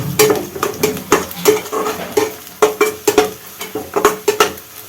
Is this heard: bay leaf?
yes